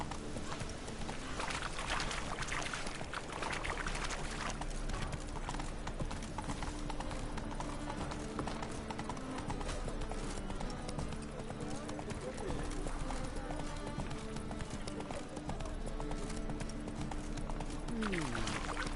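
Hooves of Roach, the horse in the Witcher 3 video game, clip-clop in a brisk, continuous rhythm throughout, with game sounds and voices layered around them.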